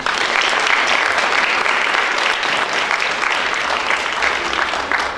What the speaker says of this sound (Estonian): Aplaus Liisale!